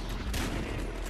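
A brief burst of gunfire in Battlefield Hardline, dense and continuous like rapid shots, heard alone at moderate level.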